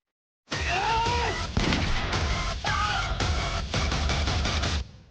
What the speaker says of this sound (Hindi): पुलिस वाले पे गोली चला दी